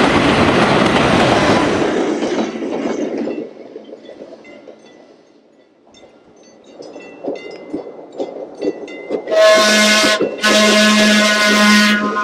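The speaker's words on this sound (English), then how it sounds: "After leaving Kentfield, trains roll around a sweeping curve as they head toward Larkspur." Northwestern Pacific interurban electric train rounding a sweeping curve between Kentfield and Larkspur in Marin County: a loud rolling rumble fades to quiet, then wheel clicks and flange squeal build, ending in sustained high screeching tones.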